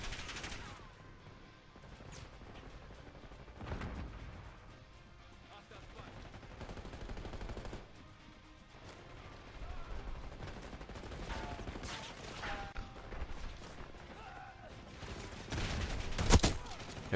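Bursts of close-range automatic gunfire in the shooter game Black Ops 6, with scattered volleys and single sharp shots spread across a long stretch and one loud crack near the end.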